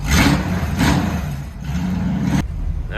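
A 1951 Chevrolet Styleline Deluxe rat rod's engine runs with its Granatelli exhaust cutout closed, giving a steady, muffled low rumble with a few gentle swells in revs, heard close with no talk.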